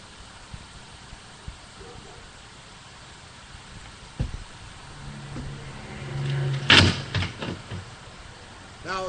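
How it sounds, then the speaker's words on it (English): A window slams once with a single sharp bang in a quiet indoor space, over a steady background hiss and a few faint knocks. "Now again, car went by and a slamming window maybe."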